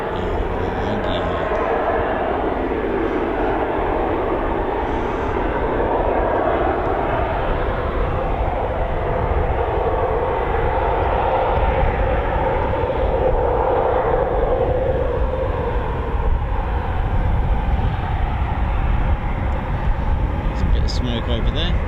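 A Eurofighter Typhoon FGR4 multi-role jet flies at RAF Coningsby during a live display, giving a continuous loud, deep roar that swells and rumbles throughout while people talk over it.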